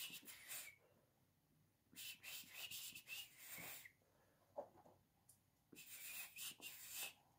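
A person whistles in short phrased bursts that mimic the rhythm of spoken words, with several separate whistled runs broken by brief pauses, close and fairly clear.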